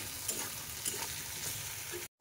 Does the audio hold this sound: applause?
no